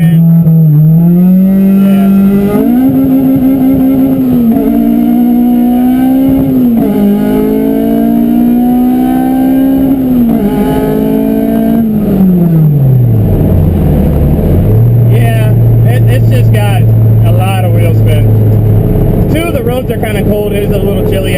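An Acura RSX engine holds a steady, loud, buzzing high-rev drone through launch control, rising in steps, then the revs drop as the car launches and pulls away with a lower, rougher engine note.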